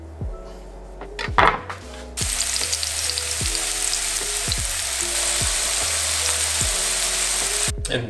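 Food frying for a homemade Philly cheesesteak, a steady hiss starting after a couple of clattering utensil knocks and continuing loud and even to the end, with repeated low hums in the background and no talking.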